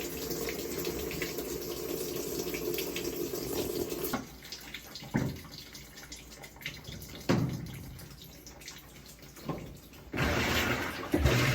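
A Maytag/Whirlpool washing machine runs its wash cycle, with steady water sloshing and rushing that stops abruptly, followed by a few quieter splashes and a renewed surge near the end.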